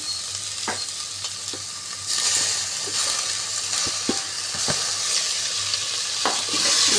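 Chopped tomato goes into onions frying in a pan. The oil sizzles loudly and continuously, and a spoon stirs with scattered scrapes and taps against the pan. No voices are heard.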